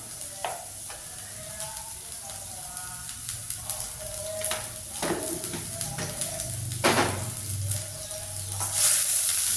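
Onions sauté with a pinch of salt in a hot pan, a continuous sizzle broken by repeated scraping stirs of a spatula against the metal, close and fairly loud, without talk.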